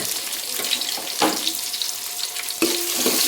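Green chillies and onion frying in a pan, a steady crackling sizzle with bursts of spitting and a few scraping stirs, close and moderately loud with no voices.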